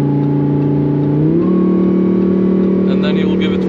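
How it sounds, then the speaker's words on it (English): Lamborghini Huracan Performante, tuned to 850 hp, accelerating at full throttle on a de-restricted road; a loud, sustained engine drone steps up in pitch after a gear change and keeps climbing. "then you will give it full throttle now"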